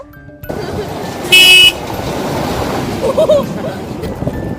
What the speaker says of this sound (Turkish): Size böyle korna da basıyorlar